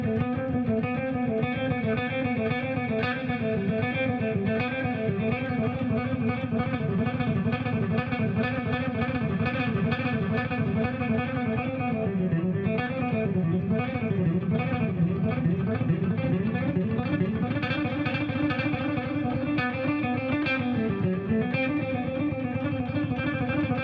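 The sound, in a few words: electric guitar playing combined 16th note and triplet exercises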